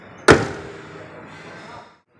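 The lid on an Infiniti luxury sedan slammed shut by hand, a single sharp bang followed by a fading metallic ring, close and loud.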